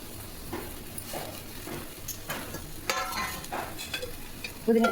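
Mint leaves going into a frying pan of oil for pudina chutney, with a steady sizzle and stirring scrapes running throughout, a louder burst near the end.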